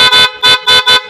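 PIAA loud horn fitted to a Yamaha Mio i125 scooter blares in four short, very loud, close honks, with brief gaps between them and no talking.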